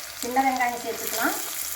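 Chopped shallots and garlic sauté in a pan for a blood fry dish, giving a brief, close, steady sizzle with a faint squeaky tonal streak.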